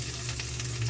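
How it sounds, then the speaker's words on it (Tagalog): Onion and garlic sauté in a pan, giving a steady, close sizzle with a faint bubbling hiss and no talking. "gisa natin sibuyas bawang mga idol"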